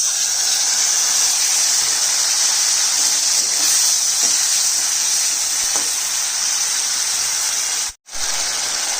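Spice paste of ginger, green chilli and ground coriander with turmeric sizzling in a hot pan, a loud continuous hissing sizzle close up that cuts out briefly near the end before resuming.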